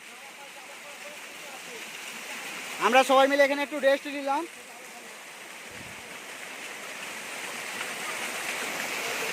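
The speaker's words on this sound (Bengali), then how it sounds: "আমরা ঝর্নার কাছে চলে এসেছি" A large waterfall at the foot of the hill steps below Kapilas temple rushes in a steady, close, unbroken roar, with people talking briefly over it partway through.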